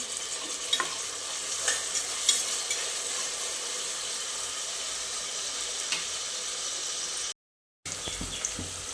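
Chopped onion and tomato frying in a pan for dal palak khichdi, giving a continuous bright sizzle with occasional soft spatula scrapes and a brief dropout near the end; no voices.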